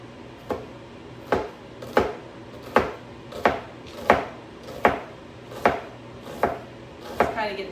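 Knife chopping an onion on a cutting board, about ten sharp evenly spaced strikes in a steady rhythm, close and clear with no talking.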